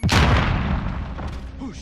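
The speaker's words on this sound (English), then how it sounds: "Throwing grenade!" A loud, booming grenade blast in Modern Warfare multiplayer, a sharp explosive onset trailing into a rumbling decay, with a voice barely audible underneath.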